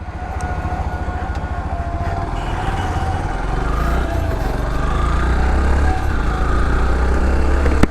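A 2026 Yamaha FZS V4 hybrid motorcycle rides on an open road, its engine drone steady and close with a gradual rise in intensity under constant wind rush, no talking.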